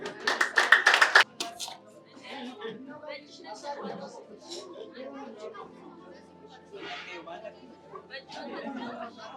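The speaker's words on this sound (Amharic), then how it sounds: "እስቲ አጨብጭቡለት" An office audience in Addis Ababa bursts into a short round of loud applause, then the clapping stops and chatter and several voices carry on over the room.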